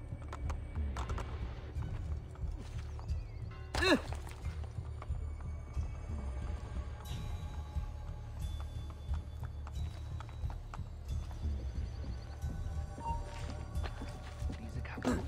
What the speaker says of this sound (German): jetzt kommt mein Pferd an